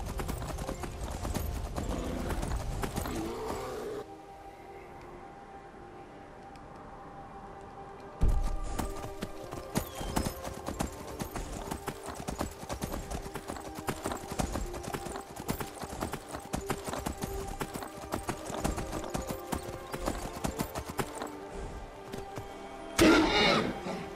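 Rhythmic clip-clop of horse hooves while riding in Skyrim VR, a steady fairly loud patter running through most of the stretch, with a quieter gap near the start and game ambience around it.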